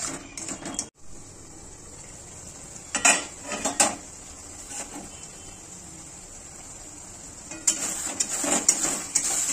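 Fish cooking in a covered pan, with a soft hiss, the clank of a lid lifted, and a few bursts of metal scraping as the pieces are stirred, close and unaccompanied by speech.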